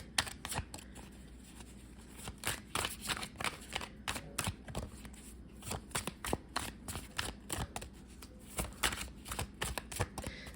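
Tarot cards being shuffled by hand, a steady run of crisp riffling slaps and flutters close up, repeating irregularly for the whole stretch with no talking.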